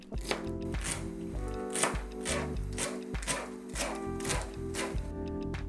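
A knife chops fresh cilantro on a cutting board in a brisk, even series of sharp close knocks, about two per second, with no talking.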